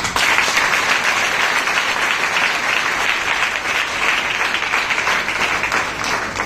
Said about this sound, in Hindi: जोरदार मेरे परमेश्वर के लिए ताली बजाओ।